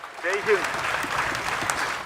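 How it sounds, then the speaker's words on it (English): Scientists and space enthusiasts burst into sustained applause after the Chandrayaan-3 spacecraft separates from its rocket, a dense wash of clapping with a few excited voices rising at the start. "scientists and space enthusiasts gathered to witness history and broke into applause"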